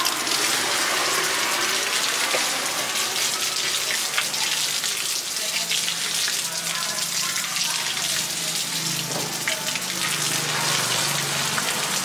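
Water gushes steadily from an open pipe during a tap valve replacement, a continuous loud rushing and splashing that runs unbroken throughout, with faint background voices.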